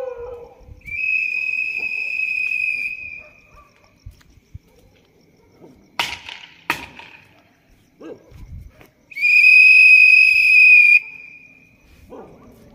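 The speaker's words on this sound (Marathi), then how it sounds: "मग आवाज तेवढा येते शिट्टीमुळं" A night watchman's whistle blows outdoors at night in a residential colony, two long shrill blasts several seconds apart, with brief sharp noises and faint distant sounds between them in otherwise quiet surroundings.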